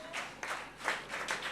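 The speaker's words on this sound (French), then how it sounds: "Est-ce qu'on peut acclamer plus fort que ça?" Church congregation applauding during a worship service, a brief, moderately loud patter of many hands clapping in uneven waves.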